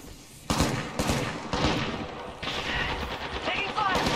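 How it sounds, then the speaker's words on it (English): Rapid gunfire in Apex Legends crackles in sharp, loud bursts every half second or so, layered shots overlapping in a tense firefight with no voices over it. "I am taking fire, friends."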